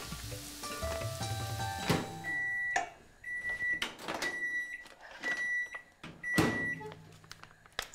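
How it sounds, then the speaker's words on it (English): A microwave oven heating a pack of pilau rice hums, with clunks and clicks of the door and buttons and a few short electronic beeps at close range. "put in the microwave for 2 minutes"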